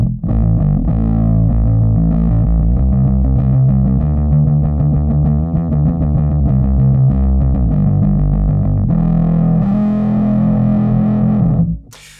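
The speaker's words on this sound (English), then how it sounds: "fully clockwise, it gets very woolly and bass forward" An electric guitar through a Stumpbox fuzz pedal with the fuzz knob turned fully clockwise gives a loud, woolly, bass-heavy distorted tone, with sustained riffs played continuously and alone before they stop abruptly.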